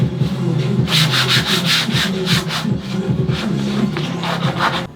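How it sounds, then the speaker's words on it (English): 120-grit sandpaper rubs over a fiberglass widebody car kit in a loud, continuous, close scratchy grind with rhythmic back-and-forth strokes. "So let's sand this."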